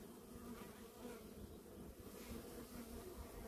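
Honey bees hum around their hives in a soft, continuous buzz, with individual bees drifting nearer and farther and no voices.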